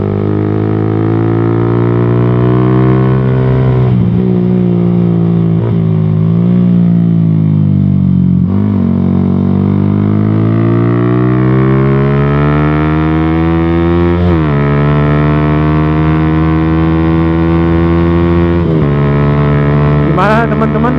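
A motorcycle at high RPM near top speed, heard from the rider's helmet-mounted action-camera mic: a loud, sustained, rich engine drone that slowly rises and dips in pitch, with heavy wind roar close by.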